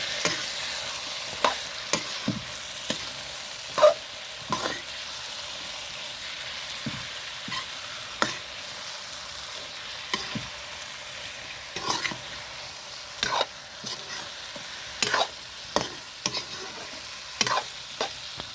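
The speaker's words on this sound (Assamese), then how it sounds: "এয়া মই ধুনীয়াকৈ লৰাই দিছোঁ" Mutton fries in a pan with tomato and turmeric while a spoon stirs it, giving a soft, steady sizzle broken by repeated scraping strokes at an uneven rhythm, close and fairly quiet.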